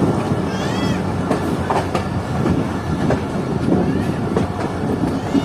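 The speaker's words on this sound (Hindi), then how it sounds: "हमारी ट्रेन पहुंच रही है सक्खर रेलवे स्टेशन पर।" A train pulling into Sukkur railway station at night, a steady loud rumble with rhythmic wheel clatter and faint squeals, heard from on board with no talk.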